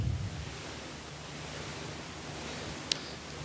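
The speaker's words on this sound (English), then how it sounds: "That's a pink noise sound that's sweeping across from the left to the right and back again" Pink noise from free, open-source music software hisses in a smooth, steady wash at moderate level while sweeping across the stereo field from left to right and back, with no voices.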